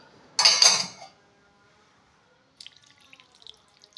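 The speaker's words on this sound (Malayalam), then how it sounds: "നല്ല ചൂടുവെള്ളം ഒഴിച്ചു" Hot water is poured onto jackfruit and puttu flour in a kitchen, a short loud splashing pour followed by a pause and then light scattered drips and small clinks.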